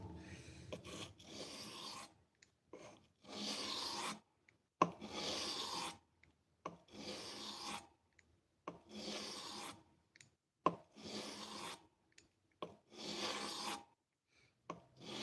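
A kitchen knife is drawn across a 1000 grit whetstone in steady rasping strokes, about a dozen even back-and-forth passes with brief pauses between them, close and fairly quiet with no voices.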